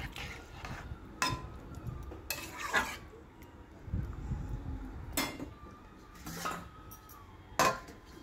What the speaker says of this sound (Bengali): হলুদ গুঁড়ো দিয়ে ভালো করে নেড়ে নিচ্ছি